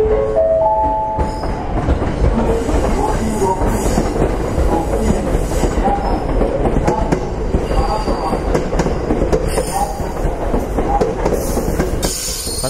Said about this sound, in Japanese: 金沢方面からやってきた白鷺4号の名古屋駅です。